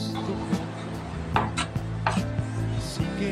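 A knife slices boiled octopus on a cutting board, leaving a few soft, irregular taps and thuds against the board over a low background hum, with no talking.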